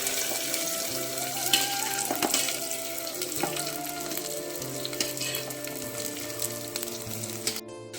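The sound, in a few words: okra and onions frying in hot oil in a pan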